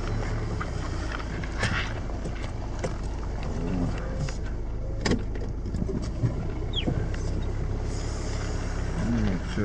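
A VW Tiguan drives slowly along a clay dirt road at night, with a steady engine and tyre rumble, rustling wind noise and a few knocks and bumps, and a voice talking over it throughout.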